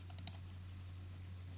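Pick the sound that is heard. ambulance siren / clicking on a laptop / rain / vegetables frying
clicking on a laptop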